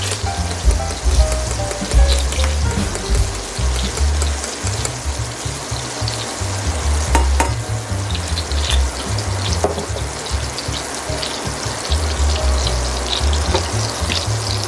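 French toast fries in a pan with cinnamon sprinkled on, a loud, dense, continuous sizzle and crackle that stays close and steady throughout, with no voices.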